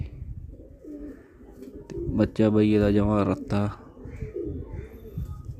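Pet pigeons in a loft coo in low, throaty calls under someone talking nearby, with one louder, drawn-out vocal stretch in the middle.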